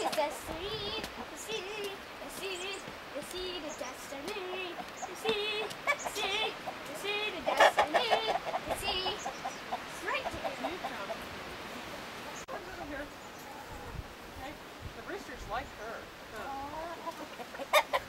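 Several chickens cluck and murmur nearby in a steady, busy chorus, with a louder squawk partway through and faint voices underneath.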